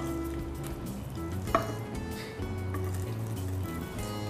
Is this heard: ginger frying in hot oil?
yes